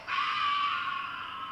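A film scream from the monster movie Destroy All Monsters, a single sustained high cry that holds steady and fades slightly, loud and alone with no talk.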